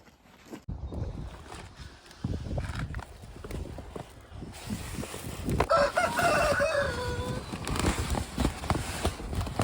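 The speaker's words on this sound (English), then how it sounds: "The chickens were enjoying the fresh dirt." Chickens scratch and cluck in freshly turned dirt on a farm, heard amid steady outdoor rustling and shuffling noise, with a rooster-like call partway through.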